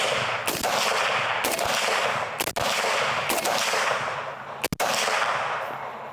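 Belgian FN FAL battle rifle from a Gendarmerie parts kit fires five loud, sharp shots at uneven intervals, each followed by lingering outdoor roar and echo.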